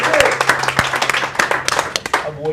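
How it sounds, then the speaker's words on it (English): Brief applause at a team meeting, scattered hands clapping in a room, fairly loud and close, with voices talking over it and a short laugh near the end. "So let's give him a round of applause."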